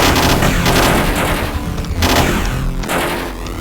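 Rapid bursts of machine gun fire in a side-scrolling video game, loud and dense, with booming impacts running throughout and no talking.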